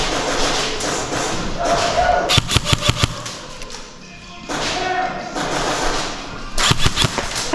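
Airsoft guns fire during an outdoor skirmish in rapid bursts of sharp snapping shots, close and loud, scattered in clusters among rustling and movement noise.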